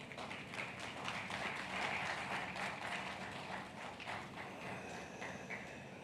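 Audience applause at an African business dialogue conference, a continuous faint patter of many hands clapping that swells slightly then eases off, heard from a distance at low volume.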